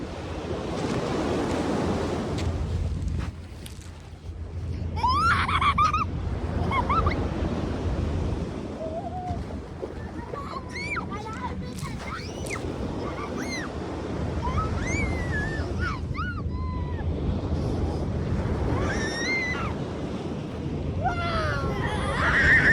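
Ocean waves roll and break at a beach in Korea in a steady, continuous wash, with wind buffeting the microphone and faint high voices in the distance.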